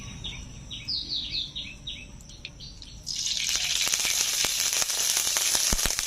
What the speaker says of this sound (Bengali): ঢেলা মাছগুলোকে ভেজে নিচ্ছি।